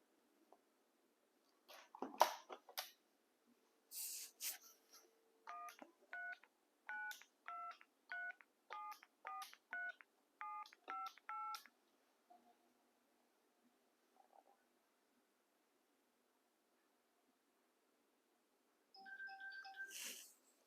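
DTMF keypad tones dialed on an analog telephone connected through an FXS ATA phone line, a rapid sequence of about ten evenly spaced beeps, followed after a pause by a brief tone burst near the end.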